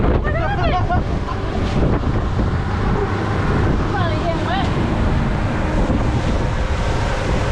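Strong wind buffets the microphone on an open boat running from severe weather, with rushing water and waves beneath and brief voices cutting through.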